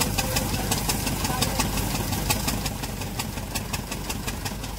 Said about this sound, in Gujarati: હા, ટ્રેક્ટર આવી ગયું